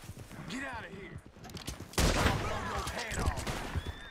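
Bursts of gunfire in Red Dead Redemption 2 Online break out suddenly and keep rattling, with someone talking over the shots.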